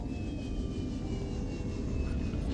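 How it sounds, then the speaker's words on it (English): The Prawn Suit's jump jets fire in Subnautica deep underwater, a steady roaring thrust rumble with a thin whine riding above it, sustained and fairly loud without pause. "we're gonna have to try and do a little jump jet maneuver here."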